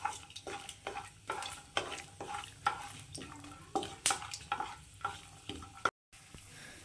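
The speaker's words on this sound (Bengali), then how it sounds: "তো দেখুন, বাদামগুলো ভাজা হয়ে গেছে" Peanuts fry in hot oil in a pan while a spatula stirs them repeatedly, making frequent scraping clicks over a soft, fairly quiet sizzle. A brief silent gap comes near the end, and no voices are heard.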